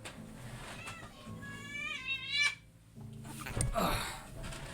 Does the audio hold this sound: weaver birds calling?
no